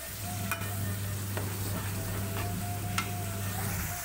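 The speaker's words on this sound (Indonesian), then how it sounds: "pastikan apinya api kecil ya untuk menggoreng cabai biar matangnya" Steady sizzling of green chilies frying in hot oil over low heat, with a low constant hum underneath and a few soft stirring scrapes.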